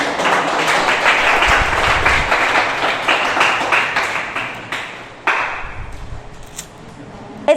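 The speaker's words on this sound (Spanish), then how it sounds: "Denle un fuerte aplauso al Señor." Church congregation at Peniel Church in Cali clapping loudly for the Lord, a dense burst of applause that thins into scattered claps, with a sharp clap near the end.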